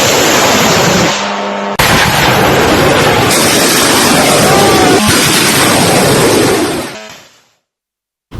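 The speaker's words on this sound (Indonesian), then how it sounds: "rentetan senjata dan ledakan terdengar di berbagai titik kota Erbil, Irak." Bursts of gunfire and explosions in the city of Erbil, Iraq: loud, dense, crackling blasts that overlap continuously and then die away, with a final sharp bang.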